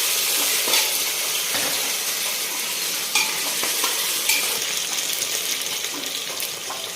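Khichdi ingredients sautéing in a pan, a continuous bright sizzle with scattered clinks and scrapes of stirring, close and steady throughout.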